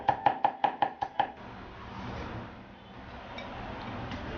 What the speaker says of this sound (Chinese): 把沙姜用刀撇破，再剁成姜面